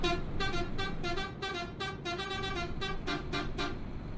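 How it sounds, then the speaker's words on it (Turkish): Original horn of a Neoplan Cityliner coach in a driving simulator game, sounding as a rapid series of about a dozen short, loud honks in an even rhythm over a steady engine rumble, with no talk. "Bir de orijinal kornasına bakalım."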